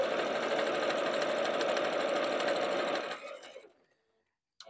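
Electric sewing machine stitching around a fur-trimmed Christmas stocking, a fast steady whirring chatter that runs for about three seconds, then winds down and stops, followed by a brief faint click.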